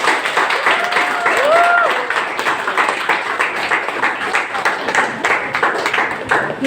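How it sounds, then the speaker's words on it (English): Audience applause at a Surigao City LEO club event honoring guests, a steady crowd of clapping hands held throughout, with a few voices briefly over it. "A warm applause"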